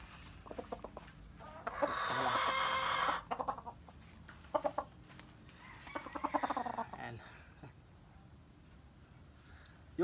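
Hens in a breeding pen give repeated near clucks and a longer drawn-out squawk, coming in bursts with quiet gaps, faint talk now and then underneath.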